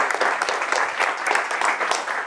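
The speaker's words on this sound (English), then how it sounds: "round of applause" A short burst of audience applause at a meetup for newcomers, dense overlapping claps at steady loudness throughout, with a few louder individual claps near the front.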